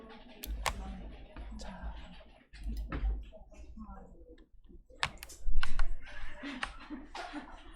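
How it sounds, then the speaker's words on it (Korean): Arrow keys on a computer keyboard are pressed in several distinct clicks and taps, interspersed among quiet, soft speech at a modest level. "윈도우 컨트롤 오른쪽 왼쪽 방향키를 누르면 이렇게 이동해서 확인할 수 있어요"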